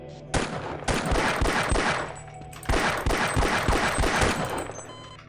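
Rapid automatic gunfire in the video game Half-Life, two sustained bursts of sharp, evenly spaced shots striking the player, loud and close with a brief lull between them.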